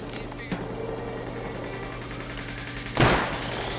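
Gunfire in the modded survival game Rust: a faint distant shot early, then a loud close crack near the end over a steady low engine-like drone.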